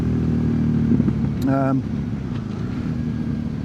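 An older BMW GS 1200 motorcycle engine runs steadily as a loud, constant low rumble throughout, with a brief higher whine midway and a person talking over it.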